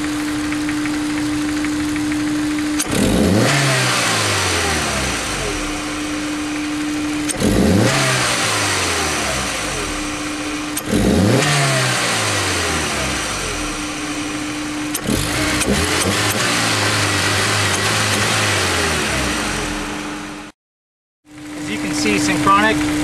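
A turbocharged Honda S2000 engine with a Synapse piston-actuated blow-off valve revs hard four times over a steady idle, each rev falling away with a release of boost, close and loud, before briefly cutting out.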